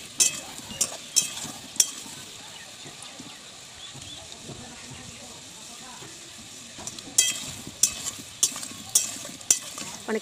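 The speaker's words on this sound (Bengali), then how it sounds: "গোটা গোটা কাঁচা আলু তো একটু ঢাকা দিয়ে দিয়ে ভাজতে হবে, সেদ্ধ করা নেই, একটু ঢাকা দিয়ে ভেজে নেব।" Whole raw potatoes fry in a pan under a lid with a quiet, continuous sizzle, punctuated by clusters of sharp metallic clinks and scrapes from a spatula stirring at the start and end.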